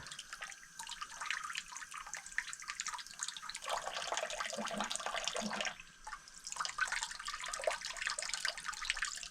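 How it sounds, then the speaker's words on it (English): Water runs steadily through the barrel of a Traditions PA Pellet Ultralight flintlock rifle during rinsing, a continuous close splashing hiss that dips briefly near the middle and then resumes. "Run some water through there."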